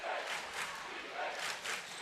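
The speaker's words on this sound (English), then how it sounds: "Hear the crowd here at the War Lodge." A crowd roars and chants in waves in a gym lodge during a girls' Elite Eight basketball game, with loud, sustained cheering that swells rhythmically throughout.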